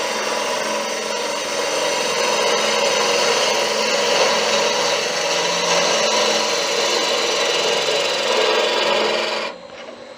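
A lathe gouge cuts an end-grain wood bowl with a loud, steady, close rasping shear that runs unbroken for about nine seconds, then drops off abruptly near the end.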